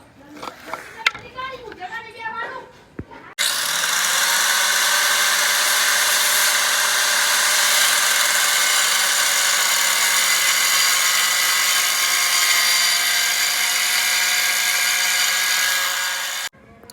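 A power tool cuts through material for the cover of a small homemade DJ setup, a loud steady high-pitched whine running about thirteen seconds after brief talk and handling noise at the start.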